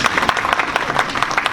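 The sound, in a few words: applause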